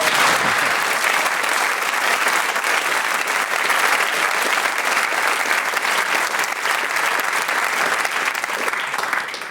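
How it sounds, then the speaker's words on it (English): A studio audience at a Brain of Britain quiz heat gives a sustained, thunderous round of applause, dense and even from start to finish before tailing off at the very end. "you can savour this stately yet thunderous round of applause"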